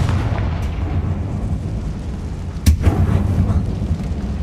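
A Confringo fire spell blast in Hogwarts Legacy, with one sharp booming explosion hitting partway through over a steady rumbling game background.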